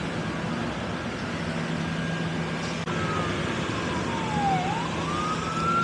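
Emergency sirens pass near the Gowanus Canal in Brooklyn, wailing and sliding in pitch from a distance over a steady urban rumble heard from the water.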